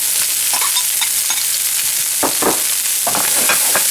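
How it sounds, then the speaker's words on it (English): Rapini sautéing in a hot pan with golden garlic and peppers, a loud, dense, steady sizzle close up, with spatula scrapes and stirs cutting through in short bursts. "now we're gonna add the rapini"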